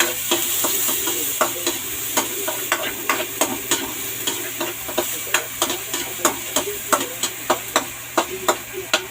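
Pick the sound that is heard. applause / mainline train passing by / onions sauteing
onions sauteing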